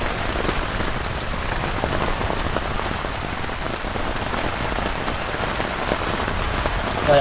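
Heavy rain pounds steadily on a camping tent during a stormy night, a dense, unbroken roar of drops close around the listener with no pauses and no voices.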